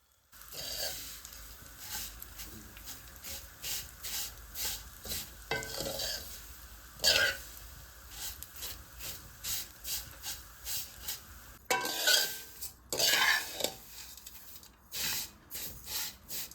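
Vermicelli stirred and dry-roasted in a pan, a steady run of scraping, rustling strokes with soft sizzling hiss, rhythmic and close, with a few louder bursts of agitation partway through.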